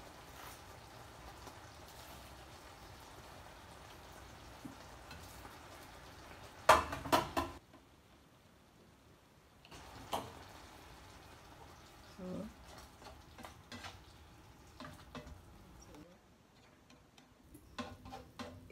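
Fish for a native-style sweet and sour dish fries in a pan. Sparse, irregular crackles and pops of spitting oil stand over a quiet background, with a louder flurry partway through.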